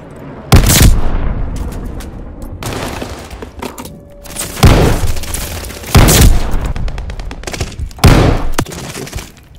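Gunfire in Call of Duty: Vanguard comes in loud, close bursts of several shots with booming impacts and brief gaps between them.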